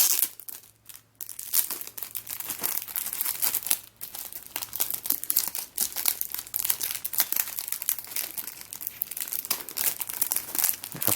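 Tight plastic packet of cube stickers for a CubeTwist bandaged 5x5 or mf8 Master Kilominx being pried open, giving close, continuous crinkling and crackling with a few brief pauses and no voices.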